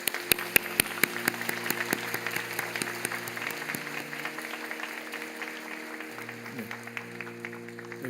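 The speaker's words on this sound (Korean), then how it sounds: "큰 박수로 환영해 주시기 바랍니다" A church congregation at a Sunday evening service applauds to welcome newcomers, starting with several sharp, loud claps that settle into a steady, fainter patter as an organ or keyboard chord sustains underneath.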